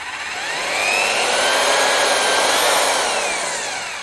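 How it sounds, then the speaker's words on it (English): Power drill whirring steadily while used for paint mixing or painting at a live painting workshop, a loud continuous high-pitched motor whine that swells in after half a second and holds throughout. "So I haven't seen people do this with a drill yet"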